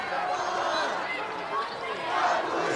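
A crowd at a high school girls' state basketball quarterfinal yelling for a jump ball, a sustained roar of many voices rising and falling, with a commentator talking over it.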